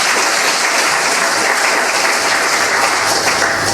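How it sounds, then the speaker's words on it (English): A conference crowd at PyCon UK 2014 applauds, a loud, even roar of many hands clapping that holds steady from start to finish. "Can we give him a little round of applause?"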